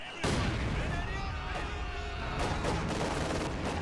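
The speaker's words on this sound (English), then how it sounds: "The mortar is actually doing pretty good damage to this squad finally" Mortar fire in a World War II strategy video game battle booms repeatedly, heavy blasts rolling over a dense, continuous wash of battlefield noise.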